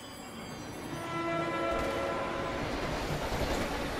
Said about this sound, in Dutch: De trein komt er aan.